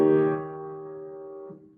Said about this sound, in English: when I hear this sound, I'm going to think German 6/5